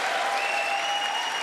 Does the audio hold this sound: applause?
yes